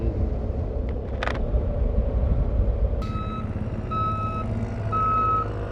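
A digger at roadside roadworks sounds repeated reversing beeps, evenly spaced and clear, heard from a passing motorcycle over a steady engine and wind rumble.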